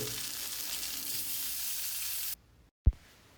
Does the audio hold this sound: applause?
no